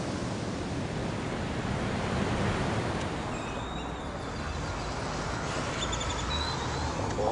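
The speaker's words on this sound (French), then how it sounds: "il y a de belles vagues" Ocean waves roll onto a Costa Rican beach in a continuous broad wash of surf, with faint bird chirps over it and no voices.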